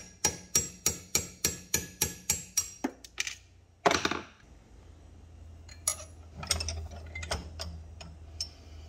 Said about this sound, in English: It was pretty easy to knock this pin out with a punch and a hammer